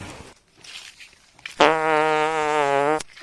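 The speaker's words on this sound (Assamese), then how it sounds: "ভণ্টিটো পাদে" A single drawn-out fart sounds as a steady buzzing tone lasting about a second and a half. It is loud and close and comes on its own after quiet background noise.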